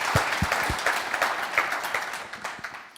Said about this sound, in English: Thank you, and applause.